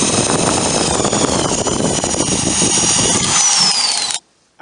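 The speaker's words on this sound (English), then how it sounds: "Now I'm ready to drill my pocket holes." A power drill whirs loudly and continuously at high speed for several seconds drilling pocket holes in wood for a desk, then cuts off abruptly.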